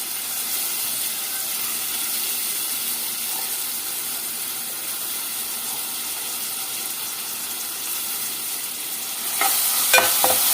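Onions and curry leaves fry in hot oil for a mushroom masala curry, giving a steady, close sizzling hiss throughout, with a few sharper crackles and spatters near the end and no voices.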